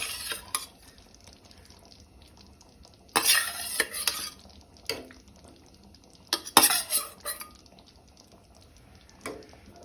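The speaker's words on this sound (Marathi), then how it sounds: "आता तातूंत बांगडे घालून घेता।" Mackerel is laid into bubbling gravy in a pan for a Goan mackerel urad methi curry, giving a few bursts of wet clattering and splashing over a low, quiet simmer, with no talking.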